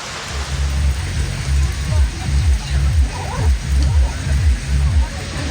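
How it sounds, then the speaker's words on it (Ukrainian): Steady rain patters and drips onto a picnic table and microphones at a lakeside picnic below the mountains at Lake Noua near Brașov, a dense close wash of drops with low, muffled rumbling underneath. "Ой, вже і на мікрофони капає. Всюди капає."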